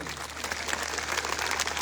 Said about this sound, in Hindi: ये हमारे साथियों के नाम पे जोरदार ताली बजा करके आप स्वागत करिए।